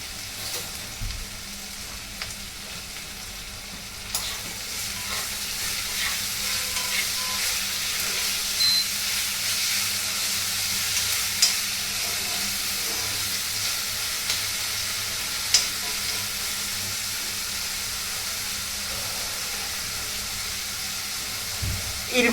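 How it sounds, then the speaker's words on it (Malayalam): Vegetables sauté with salt in an iron wok, giving a steady, close sizzle with scattered scrapes and clinks of stirring that continue without a break throughout. "നല്ലോണം ഇട്ട് ഉപ്പിട്ട് കൊടുത്തിട്ട് ഇത് നല്ലോണം വഴറ്റിയിട്ട് വരണം"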